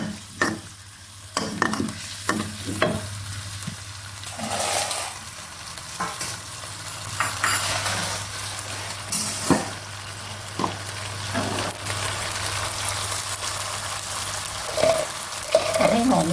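Rice noodles with shredded egg being stir-fried in a pan, a long run of sizzling under heavy, repeated spatula scrapes and knocks, with occasional soft voices.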